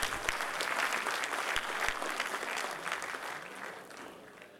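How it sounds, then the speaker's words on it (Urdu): An audience at an Urdu poetry gathering in Qatar applauds steadily to welcome a poet to the stage. The clapping is dense and sustained, close and loud, with a few low thumps, tapering slightly near the end. "زوردار تالیوں کے ساتھ ان کا بھی استقبال فرمائیے۔"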